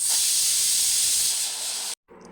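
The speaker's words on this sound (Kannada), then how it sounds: "ಈಗ ಕುಕ್ಕರ್ ಉಸಿರೋಗಿದೆ." A pressure cooker vents steam with a loud, steady hiss for about two seconds, then cuts off sharply into brief quiet and a faint tail.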